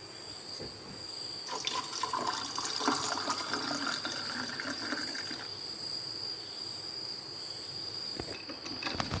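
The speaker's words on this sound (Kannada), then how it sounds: "ಹಾಲನ್ನು ಹಾಕಬೇಕು." Milk pours steadily into a glass of iced cold coffee made with jackfruit seeds, a continuous liquid splash and trickle with a faint high whine, close and alone without speech.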